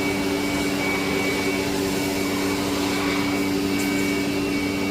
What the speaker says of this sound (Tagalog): Blower para matuyo.